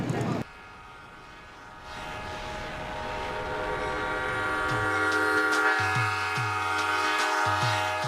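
A passenger train runs from Chandigarh to Amritsar. Its steady rumble and rail noise build gradually, and a loud, sustained horn sounds with a series of repeated blasts near the end.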